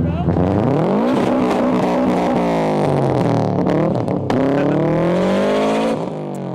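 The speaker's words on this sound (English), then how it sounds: "Subaru guy, he's probably gonna rev at us." A Subaru STI's engine revs loudly and close by, climbing and falling in pitch through several sweeps over a steady rumble, with people talking beneath it.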